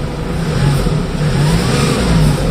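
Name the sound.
Kia Bongo 3 engine revving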